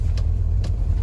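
A vintage car with no power steering rumbles loudly and steadily while driving, with two brief creaky rattles breaking through the low engine drone.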